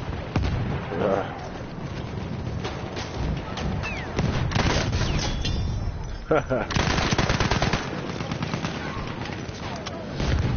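Sustained automatic gunfire and scattered explosions in the video game Battlefield 1, dense and loud bursts filling the whole stretch with little pause.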